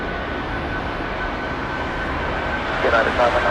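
Empty British Airways Boeing 747 on its takeoff roll from a runway, a broad steady jet roar heard from a distance with faint radio chatter in the background.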